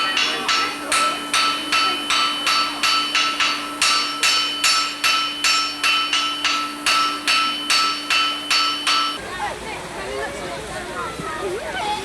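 Rhythmic metallic hammer strikes ring out from a blacksmith shop, a steady series of clanging blows, then stop, leaving outdoor background noise with faint voices.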